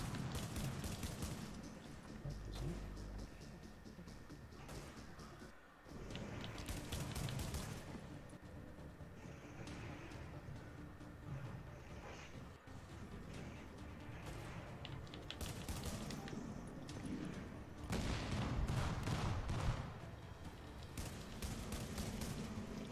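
In The Division, four agents open fire on a single sniper: bursts of rapid gunfire come in repeated volleys, fairly loud and close, mixed with clicking keyboard taps.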